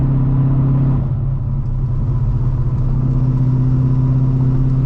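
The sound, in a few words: loud cammed Corvette C5 engine while cruising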